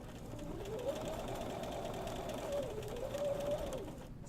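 A sewing machine runs steadily as it stitches across the top of a men's shirt placket. Its motor whirs in an even, continuous tone, rising slightly in pitch with speed.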